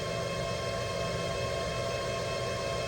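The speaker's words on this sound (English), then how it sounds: "Spindle sounds good." A steady mechanical hum with constant tonal whine, a 2019 Haas ST-20 CNC lathe spindle running continuously at 1000 RPM, loud and unchanging throughout.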